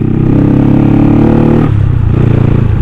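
A motorcycle fitted with a Hi-Speed cylinder head kit and a 13-26 sprocket setup roars loud and close in second gear, its engine note dropping sharply partway through as the revs fall.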